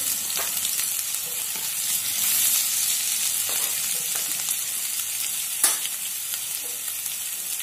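Bombil (Bombay duck) frying in oil, with a steady high sizzle throughout and a few faint clicks and scrapes scattered over it. Close and continuous, with no talking.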